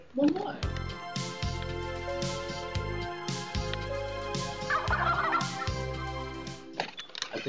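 Turkey gobble used as a player's buzzer sound in the Buzz quiz video game, a loud electronic fowl call repeating in rhythmic bursts for several seconds, with people talking over it.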